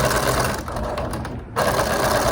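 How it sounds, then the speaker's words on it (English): An old, loud sewing machine stitches fabric for a shirred dress with a fast continuous mechanical clatter, up close, briefly easing just before stopping and resuming. "These old machines are so loud."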